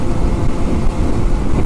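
Wind buffeting a microphone on a motorcycle ridden at about 30 mph through downtown Pismo Beach, a steady, loud, low roar that fills the whole short stretch with no talking.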